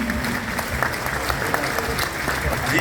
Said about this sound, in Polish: Brawa dla babci!